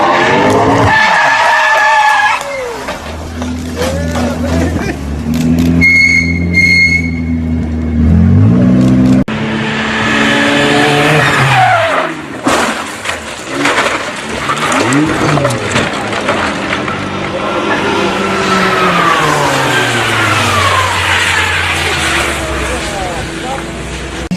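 A Lamborghini hypercar skids and crashes, with loud tire screeching and engine noise, heard from nearby while people shout excitedly over it.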